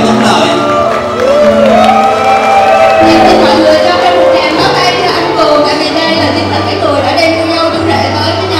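Wedding guests cheer, whoop and applaud at a Vietnamese wedding reception, a loud, steady swell of crowd noise with voices mixed in throughout.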